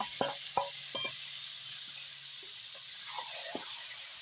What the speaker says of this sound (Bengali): আগে থেকে মাখিয়ে রাখা চিকেনগুলো ঢেকে রেখেছিলাম সেগুলো কড়াইতে দিয়ে দিচ্ছি